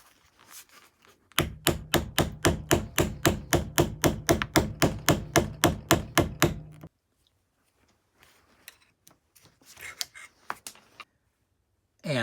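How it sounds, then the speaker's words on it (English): A hammer strikes a chisel to remove the silver contact from a circuit breaker, about two dozen sharp, evenly spaced metallic blows, loud and close. Quieter scraping and knocking follows. "But we'll just help it along with the chisel."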